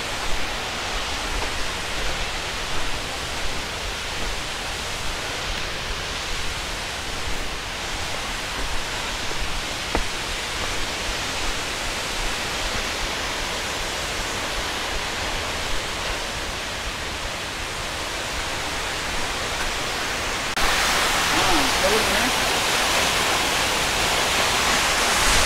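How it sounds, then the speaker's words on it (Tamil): Forceful rushing water at Jalagampari falls near Tirupathur, a steady broadband roar that continues unbroken throughout and swells louder near the end, with no talk over it. "உங்களுக்கே தண்ணி தெரியும், ஓடுற சத்தம்லாம் கேட்குதா"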